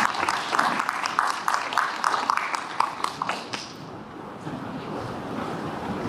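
Audience applause at a launch ceremony for a citizens' climate-crisis policy design team rings out as a crisp burst of many hands for a few seconds, then thins and fades into quiet room noise.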